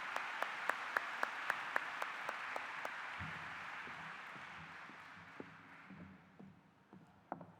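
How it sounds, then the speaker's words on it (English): Applause from the audience at an Illinois FFA State Convention session as visiting state officers leave the stage, steady crowd clapping that slowly thins and fades, with a few sharp claps standing out and faint voices toward the end. "Let's give our visiting state officers one more round of applause as they exit the stage"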